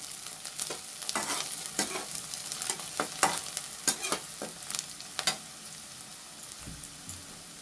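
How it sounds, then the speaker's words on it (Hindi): Chopped onion frying in a pan for an omelette curry, a steady close hiss beneath frequent scraping and clinking stir strokes that come in irregular bursts, then ease off toward the end, with no talking. "कटा हुआ प्याज प्याज हम भून लेंगे"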